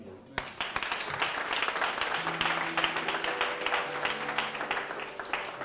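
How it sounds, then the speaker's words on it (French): A church congregation breaks into steady applause during a sermon, a dense wash of clapping starting abruptly and holding throughout, with sustained musical tones beneath. "Acclamez la priorité"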